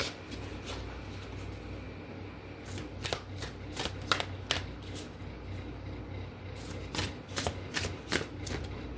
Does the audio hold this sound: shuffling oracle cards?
yes